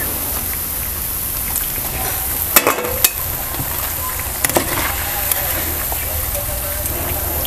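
Bread pakoda frying in hot oil gives a dense, steady sizzle throughout, broken by a few sharp clinks or stirring knocks partway through.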